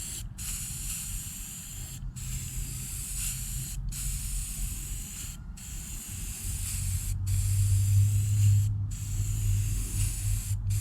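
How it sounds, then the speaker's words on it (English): Rattle cans spraying paint onto a Ford bumper, a steady close hiss in long passes broken by short gaps, growing somewhat louder toward the end, no talking. "Just a couple rattle cans really did transform the look of this bumper."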